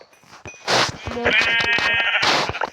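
Sheep in Minecraft bleat in a loud, wavering burst, with a second sharp bleat near the end over quieter game sounds and a voice talking.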